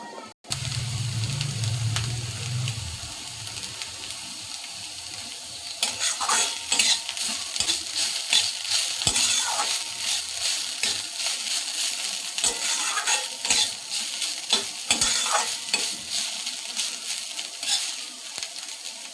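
Banana stem (thor) frying in a little oil in a pan, a steady sizzle with repeated scraping stir strokes from about six seconds onward, quieter and more muffled at the start, no talking.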